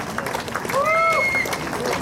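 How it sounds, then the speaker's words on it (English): A crowd at a cancer awareness run ceremony in Hyderabad applauding and cheering, a dense wash of clapping with a whistle rising over it midway, loud and close. "So give them a loud cheer."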